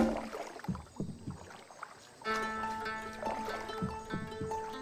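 Paddles dip and splash as a small boat moves across water, several rhythmic strokes close by, then a steady tonal hum joins in.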